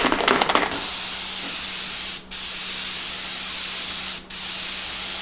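Pearl white paint sprayed onto a crankbait lure, a close, steady airbrush hiss in bursts with two brief gaps, after a short rattling start.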